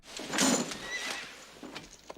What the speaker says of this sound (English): The horse is outside.